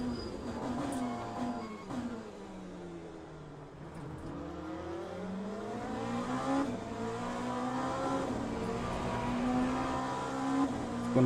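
A Lamborghini race car engine in Le Mans Ultimate drones steadily up close, its pitch rising and falling through gear changes with a sustained, loud revving tone and no talk.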